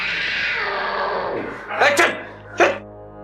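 A cat gives a drawn-out whining meow, then two sharper cries follow toward the end, close and fairly loud.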